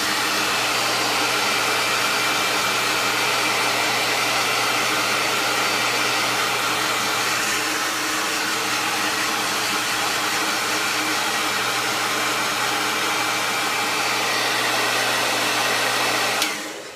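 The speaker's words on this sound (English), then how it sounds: "So now I'll up the hairdryer to warm." A hair dryer on its warm setting blows in a constant loud whoosh for the whole stretch while styling a handlebar moustache, cutting off abruptly at the end.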